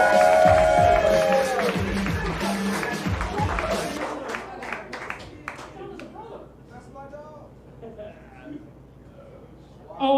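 A comedy roast battle audience in Cleveland bursts into loud applause and cheering, then the clapping thins out over several seconds with scattered claps and murmurs while a voice speaks.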